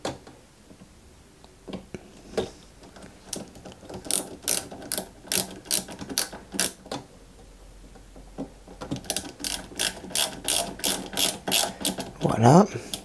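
Plastic parts of a 1/8 scale Citroën 2CV AZLP model kit being fastened with small AGM screws, giving bursts of rapid ratcheting clicks from a screwdriver, near and fairly loud, in two long runs with brief pauses and a short swipe near the end.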